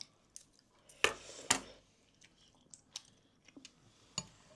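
A 23-month-old toddler chews food during a meal, with soft close mouth sounds and a few sharper crunchy bites scattered across a quiet room.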